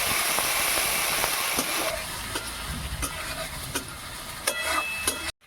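Tomato with ginger, cumin and garlic paste sizzles and fries steadily in a pan, a loud continuous hiss punctuated by scraping stirs and clinks of a spoon, with no talking.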